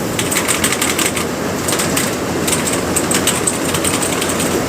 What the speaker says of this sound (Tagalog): Pag ganyan daw kaingay, mechanical keyboard daw eh.